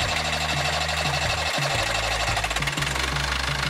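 A Perkins diesel engine runs aboard a boat with a loud, steady low throb and a knocking rhythm, continuous throughout with no speech.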